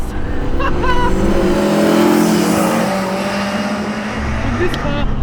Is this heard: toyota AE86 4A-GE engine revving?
yes